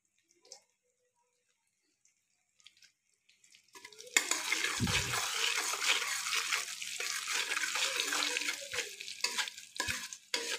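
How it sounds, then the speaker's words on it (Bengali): Crushed garlic drops into hot oil with a sudden loud sizzle after near silence, then keeps frying steadily while being stirred, with a few spoon knocks against the pan. "এখন আমি দিয়ে দিচ্ছি থেতো করা রসুন।"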